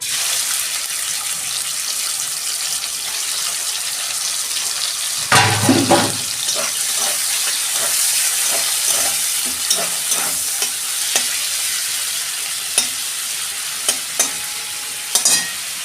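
Shrimp land in hot oil in a home kitchen pan, setting off a sudden loud sizzle that settles into a steady frying hiss, with occasional clinks and stirring taps from a utensil.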